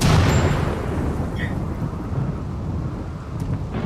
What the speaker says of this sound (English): Oh, and we've got a thunderstorm now too.